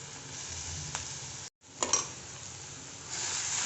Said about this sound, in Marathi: आता मी हे वाटण व्यवस्थित परतून घेणार आहे